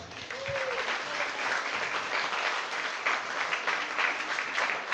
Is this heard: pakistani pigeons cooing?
no